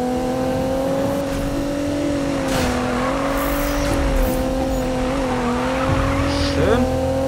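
A car drifting in a Need for Speed racing game, its engine holding a steady high drone while tires squeal through a long slide, loud and continuous with a player speaking briefly over it.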